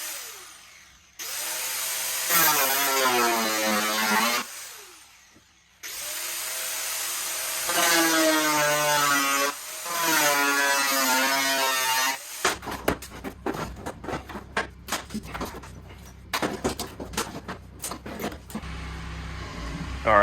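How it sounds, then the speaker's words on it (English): A cutoff wheel with a thin blade cuts into a metal car body panel during a Rocket Bunny widebody install on an FRS/BRZ, sustained loud whining bursts with pauses, then choppy grinding scrapes. "I went back to my cutoff wheel. I just got some much thinner blades for the metal."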